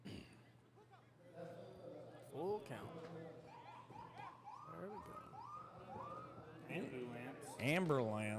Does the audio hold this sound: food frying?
no